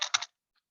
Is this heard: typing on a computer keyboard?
yes